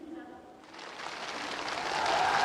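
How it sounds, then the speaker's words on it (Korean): At a North Korean military gathering, a crowd breaks into applause welcoming the defense minister. A voice is heard first, then loud clapping rises quickly and keeps swelling, dense and forceful, through the end. "국방상 동지를 열렬한 박수로 환영해 줍시다."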